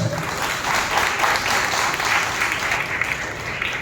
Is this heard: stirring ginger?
no